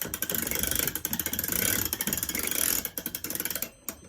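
A watch mainspring is wound off inside its barrel with a mainspring winder, giving close, rapid ratcheting clicks in quick bursts, with a few brief pauses and a final lone click near the end.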